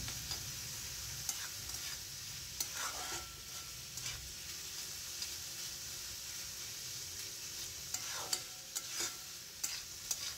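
Pointed gourd with spices, turmeric and water is sautéed over medium-low flame, a soft steady sizzle under intermittent stirring scrapes and light taps, quiet and close.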